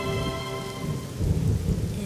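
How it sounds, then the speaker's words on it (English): Steady cartoon rain patters loudly and continuously, with thunder-like rumbling and held musical tones underneath, and no voices. "It's drizzling and raining and dripping and raining."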